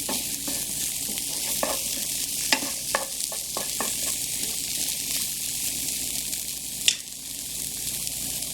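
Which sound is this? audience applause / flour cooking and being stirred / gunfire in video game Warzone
flour cooking and being stirred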